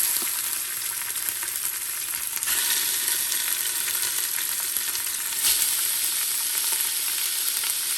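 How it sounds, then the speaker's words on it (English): Chunks of pork searing in a single layer in the bottom of an Instant Pot while making carnitas, giving a steady close sizzle and crackle that holds throughout with a brief surge midway, no talking. "we wanna sear off our meat, but we're gonna do it in chunks"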